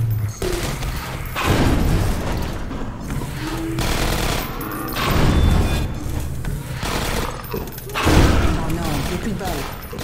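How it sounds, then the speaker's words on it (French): Automated turrets in Half-Life 2: Episode One fire loud, rapid bursts of gunfire, with several sustained volleys separated by short gaps and heavy thuds underneath. "J'entends les tourelles."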